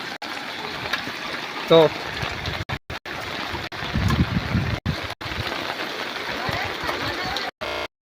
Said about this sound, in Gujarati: હજી પણ વરસાદ સખત ચાલુ છે ને આમને આમ જ પાણી છે